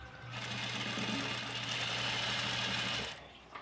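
A sewing machine topstitches a quarter-inch line along a washable, reusable face mask, running in one close, steady, continuous burst of about three seconds with a humming motor whir.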